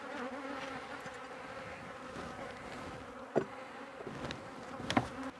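Many honey bees from a weak, starving colony buzz in a dense, steady drone close by on a brood frame in an open hive, broken by a couple of soft knocks.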